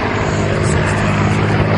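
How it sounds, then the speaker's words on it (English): A Supermarine Spitfire, built at Castle Bromwich and delivered in 1945, roars past at an airshow, its Merlin engine producing a loud, steady, continuous drone with no break. "That's what a Merlin sounds like."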